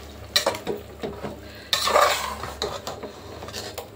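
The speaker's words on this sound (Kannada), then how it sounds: "ಇದನ್ನು ಅಷ್ಟೇನೆ ಹಸಿ ವಾಸನೆ ಹೋಗೋವರೆಗೂ ಫ್ರೈ ಮಾಡ್ಕೋಬೇಕು ಗೈಸ್" Spiced masala fries for biryani while a metal spoon scrapes and clinks against the pan in quick bursts, with a low sizzle beneath the stirring.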